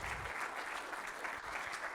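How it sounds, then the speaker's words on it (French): An audience at a business conference on digital transformation applauds steadily, with a moderately loud, even wash of clapping that carries on through the whole clip. "vous pouvez l'applaudir"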